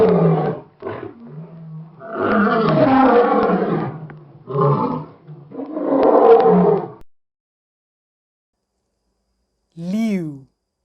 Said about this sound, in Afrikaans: leeu